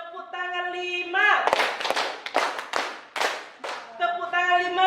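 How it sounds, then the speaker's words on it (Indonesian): A group claps hands in a short rhythmic run of sharp claps while voices chant before and after the clapping. "tepuk tangan 5,"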